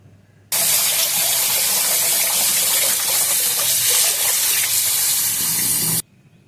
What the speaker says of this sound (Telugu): మళ్ళీ ఒకసారి చల్లటి నీళ్ళతోని మంచిగా కడగాలి.